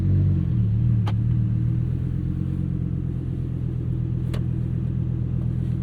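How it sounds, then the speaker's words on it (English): A 2023 Lamborghini Huracán Sterrato engine idling as it is put into drive, a steady low rumble with a couple of sharp clicks, close and even throughout. "So let's put this thing into drive and go have some fun."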